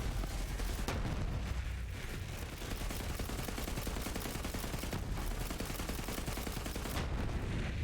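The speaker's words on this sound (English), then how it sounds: "I'll just use my gun that has a free fire mode" Continuous gunfire from a free-fire gun in Borderlands 3 rattles loud and dense, with rapid overlapping shots and booming impacts that keep a relentless wall of noise throughout, no voices heard.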